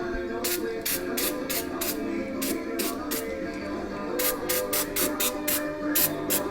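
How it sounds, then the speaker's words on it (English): Repeated short bursts of brake parts cleaner spray hiss close by on a 2001 Mazda 626 LX's brakes, in quick clusters with brief pauses between, over a low background hum. "clean everything up with some brake parts cleaner, whatever brand you get"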